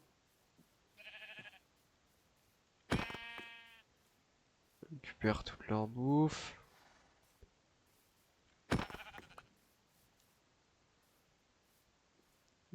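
Sheep in the Minecraft video game give a few short, bright bleats, several seconds apart, loud and close, while someone speaks French between them.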